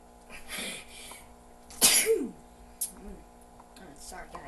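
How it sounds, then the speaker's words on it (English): A single sharp sneeze bursts out mid-clip, close and loud, during a Wii Sports tennis game. Quieter talk and game sounds come before and after it. "Sorry, guys. Needed to sneeze."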